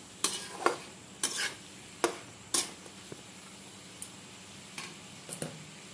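Chicken curry with curd cooks in a pan while a spatula scrapes and stirs it, giving a series of sharp, irregular scraping strokes over a soft, steady sizzle.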